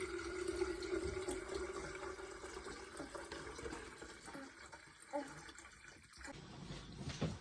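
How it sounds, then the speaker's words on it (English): Hot water is poured into the reservoir of a Tommee Tippee Prep Machine, a faint, steady trickle and splash with a few plastic knocks and clunks toward the end, close by. "I'm going to pour the hot water into a reservoir"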